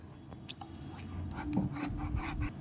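A knife works through a bottle gourd, cutting it in half. The sound is a quiet, close scraping and rubbing with a few soft knocks, steady over a low background.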